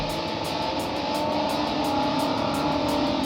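A 2015 Shelby GT Mustang with a 627-hp engine and manual gearbox driving hard on Spring Mountain Raceway, its loud, steady engine roar filling the cabin continuously without a break.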